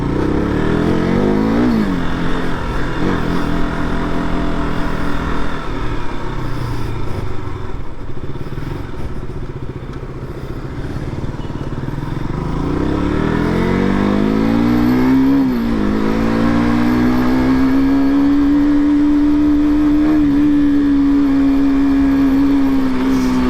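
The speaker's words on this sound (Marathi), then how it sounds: "गाडीचा असा आवाज ऐकायला आला ना खूप भारी वाटतं" A motorcycle engine drones loudly and steadily while riding in Bandra, Mumbai, during the monsoon, dipping briefly then rising in pitch as it accelerates again, sustained throughout.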